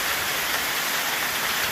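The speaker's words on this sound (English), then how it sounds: "A mix of whipping winds, torrential rain, and hail." Torrential rain lashes down with whipping winds and hail during a summer storm in the Nepean area, a loud, steady, dense hiss that holds unbroken throughout with no talk.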